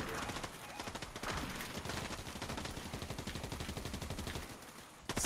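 Rapid gunfire in Fortnite crackles steadily throughout as a dense, continuous volley, with voices chattering over it.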